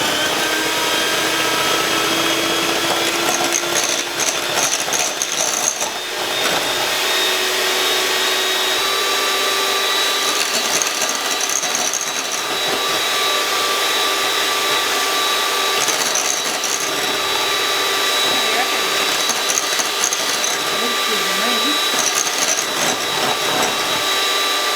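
Electric hand mixer beaters whip egg whites to stiff peaks for cloud bread, a continuous steady whirring hum with a high whine, close and fairly loud, running uninterrupted for the whole stretch with no talk.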